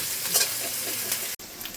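Onion, green chilli and salt fry in an oiled pan, making a close, continuous sizzling hiss with a momentary break partway through.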